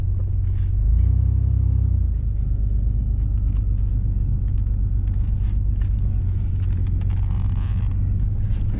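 A car engine idles after a clog was cleaned out, a loud steady low rumble close by, with a brief rise in revs near the start before settling back to an even idle.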